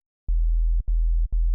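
A synthesized 808 bass made from a saw wave pitched down two octaves, heard as three deep, loud sustained low notes in a row with brief clicks at each retrigger, alone with no other sound.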